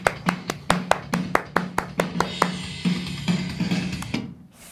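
A group claps hands fast during a guitar class, a rapid run of a dozen or so sharp, loud claps that speeds up, then trails into scattered claps and quiet.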